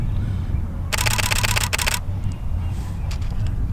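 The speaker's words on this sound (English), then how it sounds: "check this shutter out" Canon 7D DSLR shutter firing in a rapid burst of crisp mechanical clicks lasting about a second, followed by a few isolated softer clicks, close and loud over quiet room tone.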